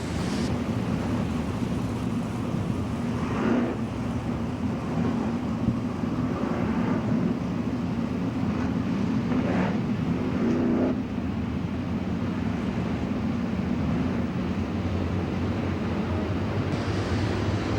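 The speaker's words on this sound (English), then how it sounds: "They start to clear the motors a little bit." Several sprint car engines idle and rumble together on a dirt oval before the start of an All Star Circuit of Champions race, with the throttles blipped now and then. The continuous roar is broad and moderately distant.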